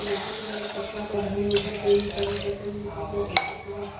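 About two glasses of water pour into a pot for boiling Maggi noodles, a running, splashing stream with brief clinks and a faint voice in the background.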